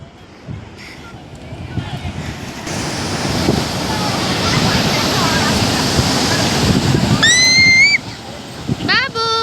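Rushing water at Nizamsagar dam on the Manjira river roars loudly and steadily, with voices faintly audible and a few high whistle-like chirps near the end.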